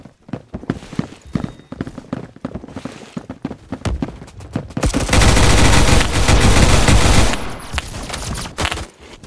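Gunfire in the Roblox shooter Phantom Forces, an M1911 .45 ACP pistol among it: scattered sharp shots early on, then a dense, loud sustained burst of firing in the middle before the shots thin out again.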